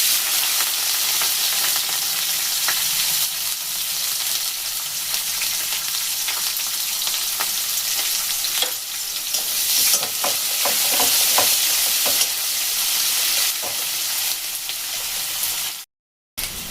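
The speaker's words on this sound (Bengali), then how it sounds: "পেঁয়াজ ভাজা হয়ে গেছে।" Onions fry in a pan with cloves, cardamom and bay leaves, making a dense, continuous sizzle up close, broken by frequent scraping stirs. The sound drops briefly to silence near the end, with no voices.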